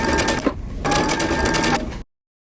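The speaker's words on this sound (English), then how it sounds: "I have pressed under my hem for my top, and I'm going to stitch all the way around." A sewing machine stitches around the pressed hem of a flutter top, a fast steady whirring run that pauses briefly, resumes, then cuts off into silence.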